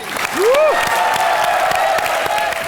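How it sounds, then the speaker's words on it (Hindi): Studio audience at a Hindi TV comedy show breaks into loud, sustained applause and cheering, with a rising whoop near the start and music tones running underneath. "जोरदार तालियां हो जाएं भारती और करण के"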